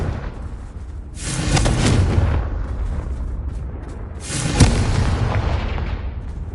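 Two loud, rumbling Confringo blasts from Hogwarts Legacy, each a broad roaring explosion lasting about a second and a half and fading into a long tail, with a heavy burst at the peak of the second.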